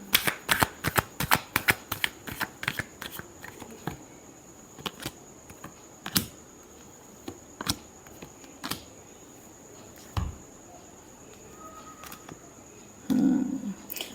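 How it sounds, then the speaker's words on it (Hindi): Tarot cards are shuffled close by in quick bursts of crisp riffling flicks, dense at first and then sparser single snaps, with a soft rustle near the end. "Last shuffle."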